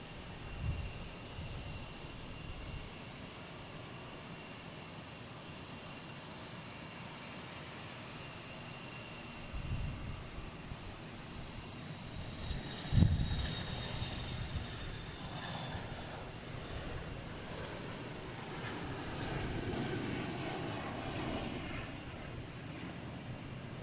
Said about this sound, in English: Next taking off is a Bombardier Global 7500 heading to Nice.